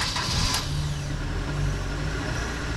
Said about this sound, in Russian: Машина хорошая, двигатель работает, как часы.